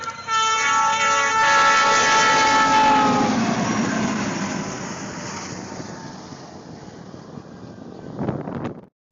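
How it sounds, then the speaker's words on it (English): A snow-clearing train roars past close by, a loud sustained rush with a blaring horn-like tone at the start, fading to rumbling noise and a brief clatter at the end. "Even trains have their own snow-clearing giants."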